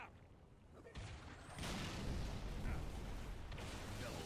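Frag grenade explosion in Halo: Reach, a loud broadband boom that swells and holds amid continuous gunfire and battle noise.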